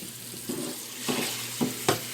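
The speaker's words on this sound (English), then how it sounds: "When it's all rinsed out, maybe once or twice, you drain it like so." Rinse water from soaked lentils being drained out for an Italian lentil soup, a soft pouring splash that swells in several brief bursts over a quiet kitchen background, with no one talking.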